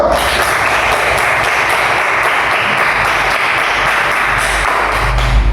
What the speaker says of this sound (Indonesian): terima kasih tepuk Ngawi ramahnya anak-anak semuanya